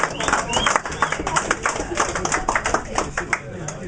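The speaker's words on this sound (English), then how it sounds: "can we have a round of applause for Mootown," At a retro computer games festival, an audience claps for the winner of a game competition. The claps are close and rapid, in a steady patter that lasts the whole stretch, with a voice audible at moments.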